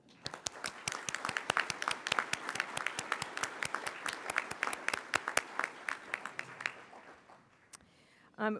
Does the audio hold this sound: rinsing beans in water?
no